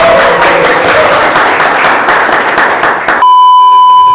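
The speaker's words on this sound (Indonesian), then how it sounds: "Tepuk dong." A crowd claps loudly and densely for about three seconds at a church-themed episode opening, then cuts off abruptly into a steady electronic beep tone.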